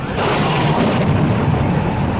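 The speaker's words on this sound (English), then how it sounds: "A bolt of lightning, sir." A thunder crack from a lightning bolt in an audio drama set aboard a sinking ship at sea: a loud, continuous, heavy rumble that fills the whole moment with no voices over it.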